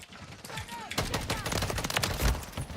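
Call of Duty Modern Warfare 3 gunfire arrives as a fast run of sharp shots. They are close and fairly loud and sit over a busy mix of game effects, with a voice now and then.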